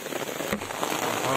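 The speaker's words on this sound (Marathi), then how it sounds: "यामधून इतका हेवी पाऊस सुरू झालेला आहे, पाहू शकता तुम्ही." Heavy rain falls steadily in the forest on the Fonda ghat, a dense continuous hiss with scattered drops close by, with no voices.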